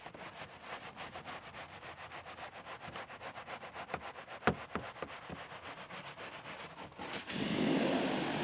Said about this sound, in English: giving that a scrub using the Easy Go brush